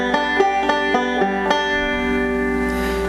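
Picked string roll with an added open first string plucked by the middle finger: a few bright, evenly spaced notes in a rolling pattern, then ringing out and fading, close and alone.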